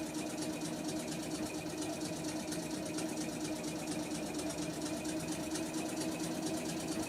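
A steam truck engine in the video game Eco chugs with a fast, even mechanical rattle like a sewing machine, a steady faint rhythmic clatter that continues alone without talk.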